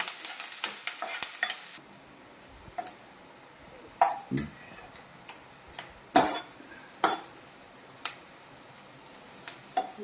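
Finely chopped ginger and green chillies soften in a pan for vegetable cutlets: a faint background sizzle is broken by separate spatula scrapes and taps every second or two.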